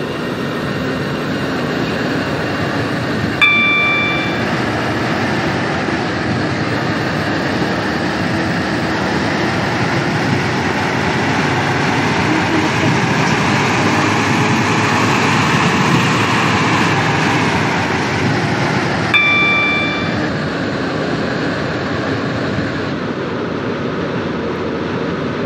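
A Stepford Connect train in a video game runs between Stepford Central and Whitefield, a steady, loud rolling drone that swells gently over the journey, with two brief chime tones along the way.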